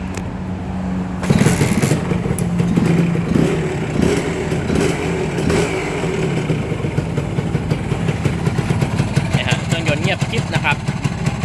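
A stock Honda Nova Dash 125 motorcycle with original carburetor idles close by, a steady mid-pitched engine chatter with a few brief blips early on, continuing loud for the whole stretch.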